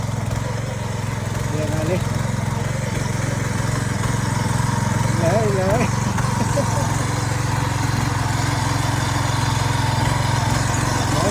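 A loud tractor engine chugs steadily and close by while ploughing a field, running throughout, while people talk briefly over it.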